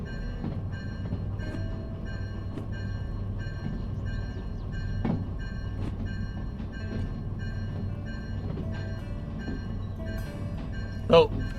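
A diesel electric locomotive in Derail Valley hums steadily with a low engine drone and tonal whine, punctuated by faint clicks and a brief louder clank near the end, under intermittent speech.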